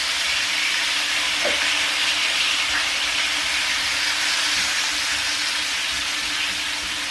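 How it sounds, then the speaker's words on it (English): A steady, quiet hiss of mushrooms frying in a small pan, constant and even with no talking. "I'm going to fry the mushrooms now."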